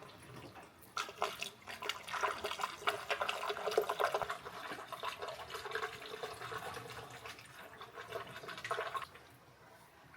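Race fuel glugs and splashes steadily from a vented container into a car's fuel tank, a continuous close liquid pour lasting about eight seconds before trailing off.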